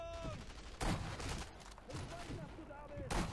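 Rifle shots ring out in the video game Sniper Elite V2, two sharp cracks about two seconds apart over a quiet game soundscape.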